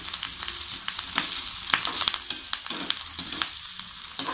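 Grated ginger frying in hot oil with chicken for a garlic chicken fry, a steady close sizzle broken by sharp scraping stirs of a spoon against the pan, no voices.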